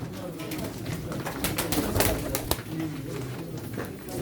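Pigeons coo softly amid a busy background of other birds at a pigeon auction in Çorum, Turkey, with occasional sharp clicks and bumps nearby.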